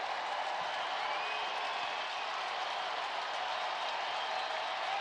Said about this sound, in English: A rousing ovation still going on for this Orioles crowd